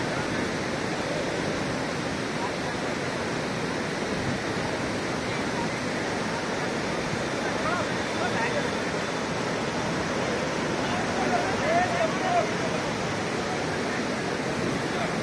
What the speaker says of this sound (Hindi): इतना वेग है पानी में,